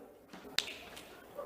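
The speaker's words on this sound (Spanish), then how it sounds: "Lo voy a hacer con un chasquido de mis dedos" A single sharp finger snap cracks out close and crisp, briefly alone against faint room background.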